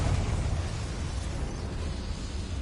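The Bombarda explosion spell in Hogwarts Legacy on PS5, heard as a loud, rumbling blast that sustains a dense roar through the whole moment.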